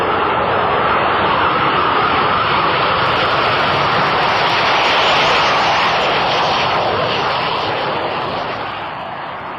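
Steady, loud jet roar from a Saab Gripen fighter's single General Electric afterburning turbofan, holding a broad, even rush throughout before easing slightly at the end.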